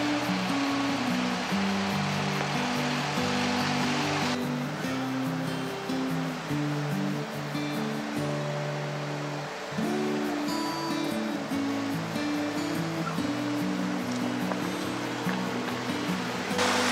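Steady rushing flow of a creek beside a hiking trail near Sedona, Arizona, a dense continuous wash of water sound running unbroken and fairly loud throughout, with no voices.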